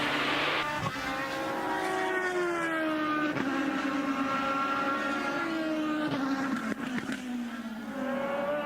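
IndyCar race car lapping the 2.3-mile Barber Motorsports Park road course on the final lap, engine note loud and continuous, pitch rising and falling through gear changes, with no talk over it.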